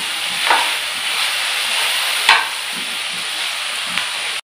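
Tomatoes frying in a pan for a green beans masala with peanuts, a steady close sizzle with a few louder spatters as the pieces hit the hot oil, no talking.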